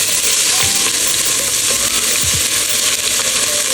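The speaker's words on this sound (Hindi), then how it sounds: "थोड़ा सा 1 टीस्पून के बराबर लहसुन अदरक का पेस्ट डालेंगे" Ginger-garlic paste fries in hot oil in a pan, a loud, steady sizzle with a few soft scrapes of stirring, close up and with no talk.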